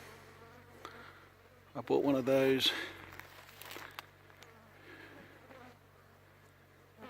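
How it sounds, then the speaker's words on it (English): Flies buzzing around a rider on a BMW R1200GSA motorcycle stop in the Australian outback, one loud close buzzing pass then fainter intermittent drones while someone talks briefly. "The flies here are unbelievable. Probably hear them"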